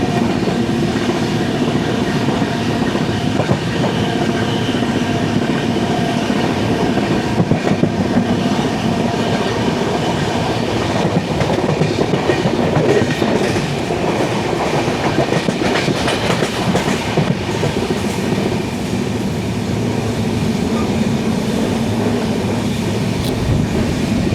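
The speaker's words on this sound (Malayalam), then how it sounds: "കോട്ടയം നിലമ്പൂർ എക്സ്പ്രസ് ആയിരുന്നു അത്." The Kottayam–Nilambur Express rolls past on the line, a steady loud rumble with rhythmic clickety-clack of wheels over rail joints and faint wheel squeal, continuous throughout with no talking.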